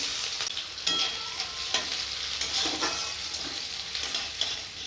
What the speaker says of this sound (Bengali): কড়াতে আর একটু তেল দেবো চারটা শুকনো লঙ্কা দেব কুচানো পেঁয়াজ